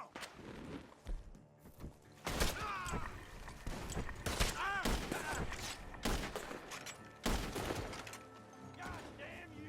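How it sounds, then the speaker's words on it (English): Sharp bursts of gunfire crack out in several volleys from a barn in the video game Red Dead Redemption 2, mixed with clanking mechanisms and scattered footsteps, with voices shouting briefly in between. "The gunshots are coming from that barn."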